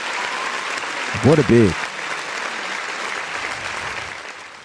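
Applause on a 49ers draft day livestream, a thin steady clapping bed that runs throughout, briefly interrupted by a short vocal cheer near the middle and then continuing at moderate level.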